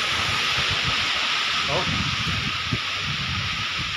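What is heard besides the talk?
strong wind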